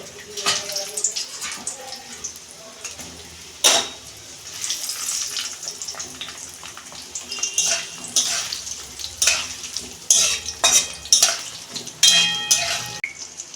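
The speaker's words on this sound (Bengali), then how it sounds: "এই যে আমগুলো রোদ্দুরে শুকনো করে নিয়েছি আমগুলো দিয়ে দিচ্ছি তেল" Oil is poured over sun-dried mangoes in a pot for a mango oil pickle. Irregular close clatters, knocks and wet splashy bursts come and go over a soft background.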